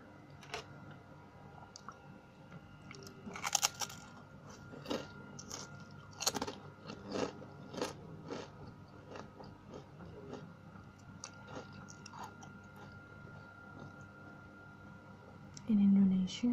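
Someone eats chicken porridge (bubur ayam) up close, with soft repeated chewing, wet mouth clicks and crunchy bites.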